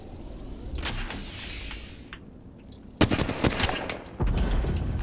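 Gunfire in Apex Legends with a gold barrel stabilizer: scattered shots amid steady battle noise at first, then sharp, close bursts of rapid shots that continue into a dense, loud volley.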